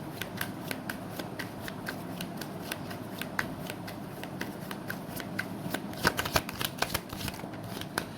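Tarot cards being shuffled for a reading, a continuous close riffle of crisp card flicks and slaps with a busier burst near the end, no voices.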